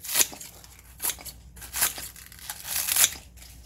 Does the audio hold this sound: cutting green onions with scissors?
yes